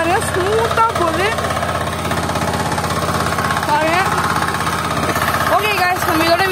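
A power weeder engine runs steadily in a field with a loud continuous throbbing drone throughout, while someone talks over it.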